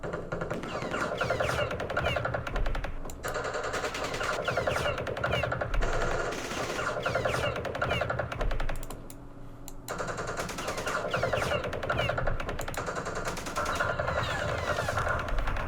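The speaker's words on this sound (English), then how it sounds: "So we unloaded a whole entire company's worth of shots." An infantry company fires in the Vietnam war game Campaign Series Vietnam at the Battle of Mao Khe, close, dense crackling bursts of rifle and machine-gun fire crowding together, with one short lull partway through.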